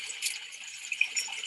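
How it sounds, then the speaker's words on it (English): Water from a small waterfall runs steadily a few days after rainfall, a soft, thin rushing hiss that stays faint and continuous, with slight splashy flickers. "And this waterfall here"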